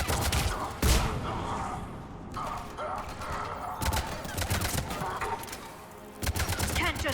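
Rapid bursts of automatic gunfire from the sci-fi shooter Mass Effect 3, set on a secure space station. Dense volleys crackle almost continuously, with sharper loud blasts punching through at intervals over a busy combat mix.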